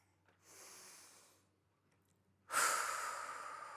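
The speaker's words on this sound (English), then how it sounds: "And just take a couple of deep breaths." Two slow, deep breaths taken close to the microphone, a softer drawn-out inhale followed by a louder, longer airy exhale, with no talking.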